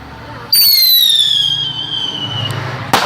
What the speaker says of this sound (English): Featuring firework right here.